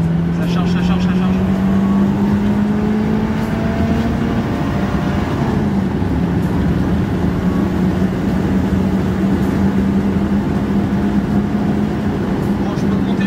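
A 1970s BMW 2002 Turbo strains under acceleration in a long, droning pull with the turbo slow to spool, its engine tone rising gradually beneath steady road and wind noise inside the cabin.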